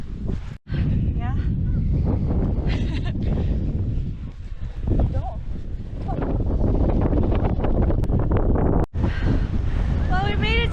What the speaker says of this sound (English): Man, it's windy though.